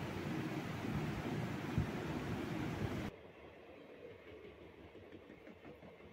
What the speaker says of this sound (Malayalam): train number 17229 Sabari express crossing Munroethuruthu railway station